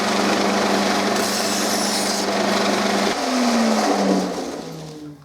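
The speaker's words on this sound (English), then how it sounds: "You didn't think I was going to do all that sanding by hand, did you?" A power sander whines steadily at close range on wood, then its pitch shifts and winds down as it slows toward the end.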